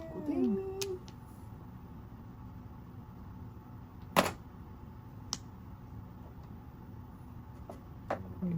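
A kitten gives a single short meow near the start, followed by quiet room ambience with a few faint clicks and taps.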